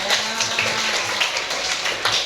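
Classroom applause from a group of students, a brief burst of dense, even clapping that fills the room and then stops.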